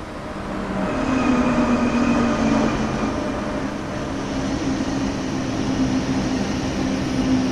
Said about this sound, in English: Your train has arrived, so let's climb aboard.